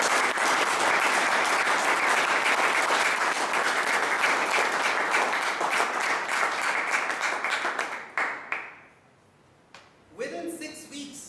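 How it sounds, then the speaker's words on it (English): Loud audience applause for Nisha Balakrishnan at a club meeting, dense steady clapping for about eight seconds before it fades and breaks off, with a voice starting up near the end. "Friends, please give Nisha Balakrishnan a huge round of applause."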